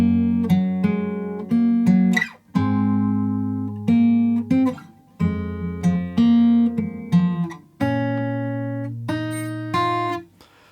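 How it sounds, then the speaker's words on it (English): Fingerstyle acoustic guitar in standard tuning plays the piano intro line of a song from The Super Mario Bros. Movie, with a clear melody over bass notes in short plucked phrases and no talking. "the first line that we've got to play, it's like the piano intro, sounds like this"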